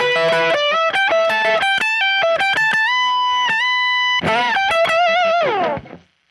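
Electric guitar on the bridge pickup plays a 12-bar blues lick in E with distortion: quick picked notes, a sustained bend and a final fading phrase, loud and close with no talking.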